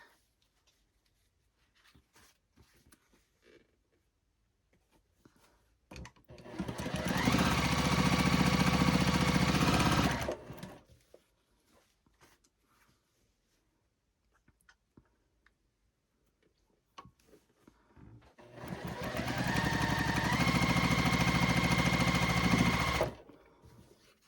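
A sewing machine stitching quilt block pieces for a star quilt in two long, steady motor-driven runs of several seconds each, separated by quiet pauses with light handling noises.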